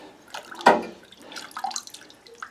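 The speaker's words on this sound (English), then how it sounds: "I'm gonna rinse it a little bit there." Water rinses engine parts from a Troy-Bilt Storm 10030 snow blower with a 10 HP Tecumseh engine, giving a short soft splash followed by light dripping and trickling, close by.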